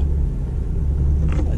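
GMC Acadia driving on the road after a brake replacement, a steady low rumble of engine and road noise throughout, with no voices.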